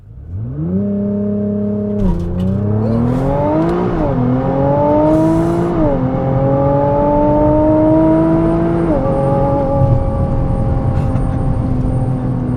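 A 2017 Nissan GT-R leaves the line under launch control, its engine note climbing loud and close through several quick upshifts, each gear change marked by a brief dip before the pitch rises again.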